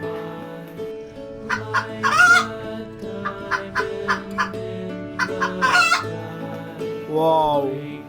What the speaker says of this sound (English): Hen. Fantastic hen.